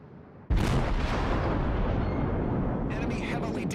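Main guns of a Japanese tier 6 cruiser, the Aoba, fire a sudden heavy three-round salvo in World of Warships, one loud blast rolling into a long rumbling decay with a crackle near the end.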